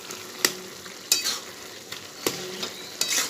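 Ash gourd with shrimp fries in a pan while a utensil scrapes and stirs through it, giving several sharp strokes over a soft steady sizzle.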